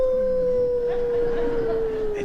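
Wolf howling sound effect from an old-time radio comedy show, one long sustained wavering howl that slowly falls in pitch, close and loud, with a low murmur underneath. It may be a person imitating the howl.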